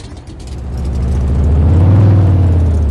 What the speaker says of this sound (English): Okay, this truck sounds mean. I love it.